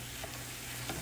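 Ground turkey frying and being stirred in a pan, for baked beans, with a soft steady sizzle and brief scraping touches, no talk.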